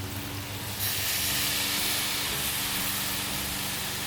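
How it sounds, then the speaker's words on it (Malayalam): Wine splashed into a hot pan holding beef for a Kerala-style grilled steak dinner, bursting into a loud, steady hiss of sizzling steam after a brief quieter moment, continuing without pause and with no talking. "ഏകദേശം ഒരു 2 ടേബിൾ സ്പൂൺ വൈൻ നമ്മളിവിടെ ഒഴിച്ചു കൊടുക്കുകയാണ്."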